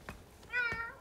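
A single brief meow rises and falls over a quiet room hum during a live broadcast. It is soft and close, with a faint tap before it.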